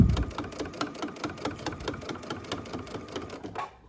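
A sewing machine stitches fabric for a kitchen pot holder, a close rapid mechanical chatter of even needle strokes that runs steadily for a few seconds and then stops.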